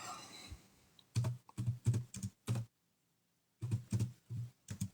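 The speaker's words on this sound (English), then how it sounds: "You can hear me typing away." Close, quick typing on a computer keyboard in short clustered bursts separated by pauses, with a quiet stretch in the middle and no voices.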